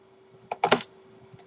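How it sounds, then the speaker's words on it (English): A computer mouse clicks on a preview button, giving a couple of sharp, close clicks in quick succession followed by a softer tap, with no voices. "I'm going to click the preview button."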